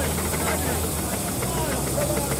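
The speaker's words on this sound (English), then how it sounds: "like the Foden steam wagon tanker that you see just going past" A Foden steam wagon tanker goes past in a parade at a steam and craft show, giving a steady, loud hiss of steam under a busy outdoor background with faint voices.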